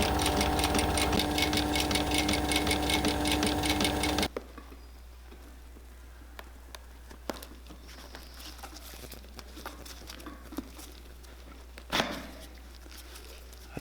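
A sewing machine runs loud and steady, stitching the welt onto a pair of coal miner boots, then stops abruptly after about four seconds, leaving quiet room noise and a few faint clicks.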